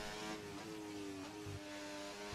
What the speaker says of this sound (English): We have one car on a quick lap right now.